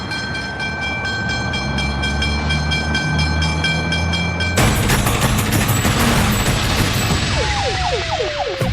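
A train rumbles past a level crossing with boom gates and red lights, a steady loud roar of wheels and wagons, then a sharper surge of clattering and screeching metal as the cars roll by close up.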